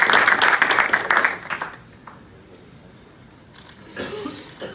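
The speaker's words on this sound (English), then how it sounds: "So big round of applause, please, for Luis Arias." Audience applause at a Matchroom Boxing USA press conference, a burst of dense clapping that fades out within two seconds, followed by a quiet room and a brief second swell of clapping near the end.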